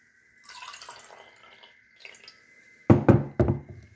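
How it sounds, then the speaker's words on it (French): Water poured into a glass for a demonstration, heard as a soft trickle and a few drips, then a clink or knock as the glass is set down or touched, close and fairly quiet, with no talk. "Voici un verre. Je le remplis avec de l'eau."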